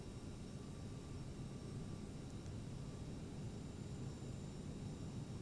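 A CRJ-700 jet on its takeoff roll in the Prepar3D flight simulator gives a steady, even broadband engine roar with a faint whine, constant and moderately loud with no talking.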